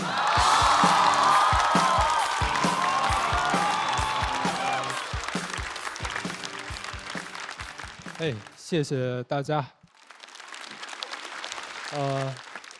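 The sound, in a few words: audience applause and cheering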